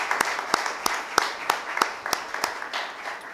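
A church congregation claps in a steady rhythm of sharp, evenly spaced claps, close and fairly loud, with no talk over it.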